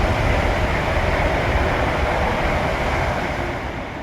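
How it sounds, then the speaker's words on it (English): A slow train rumbles past near boggy, puddled ground outdoors, a steady broad roar holding loud throughout and easing slightly toward the end, with no voices. "Oh, train."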